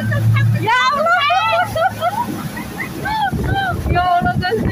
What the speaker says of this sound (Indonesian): Kita lagi di boat.